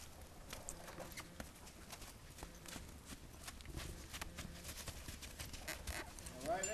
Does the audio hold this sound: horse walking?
yes